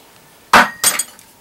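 A hammer with a rubber end and a plastic end strikes a casting mold's sprue plate to knock it open: two sharp, loud, close knocks about a third of a second apart, the second trailing a brief metallic ring.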